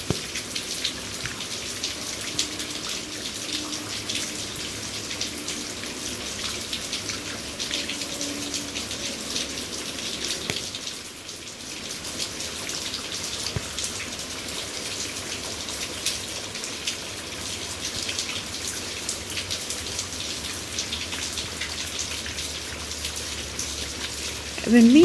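Steady rain falls outdoors as a constant soft hiss with scattered drop patter, fairly quiet and unbroken for the whole stretch, with no one talking.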